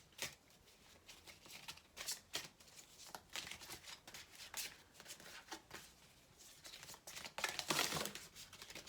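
A deck of oracle cards being shuffled by hand, with soft riffling flutters and papery slaps in uneven bursts, close and quiet, ending in a louder flurry, no voices.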